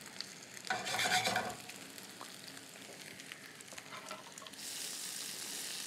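Pak choy searing in a hot pan, a soft crackling sizzle with a brief louder burst of stirring near the start, then a gentler steady fry, no talking.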